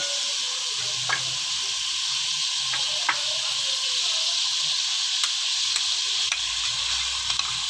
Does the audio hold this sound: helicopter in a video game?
no